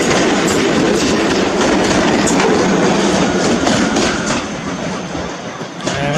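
A train runs through Walsall station on its way back toward Wolverhampton, a loud steady rumble with rhythmic wheel clatter over the rails close by, easing slightly near the end with no talking.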